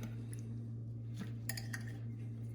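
Fork clinking and scraping against a dish while mixing and flipping pasta, a few light taps over a steady low electrical hum.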